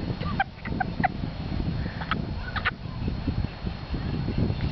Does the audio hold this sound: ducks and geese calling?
yes